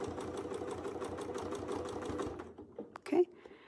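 A sewing machine runs in a fast, steady stitching burst during free-motion quilting, tripling a line of thread, then slows and stops with a few clicks and a brief voice near the end.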